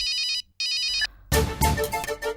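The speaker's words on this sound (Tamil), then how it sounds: "அக்கா ஃபோன் அடிக்குதுல, யாருன்னா எடுத்து பாறேன்." An electronic phone ringtone chirps in two quick bursts, then a louder musical ringtone melody starts up nearby in a home.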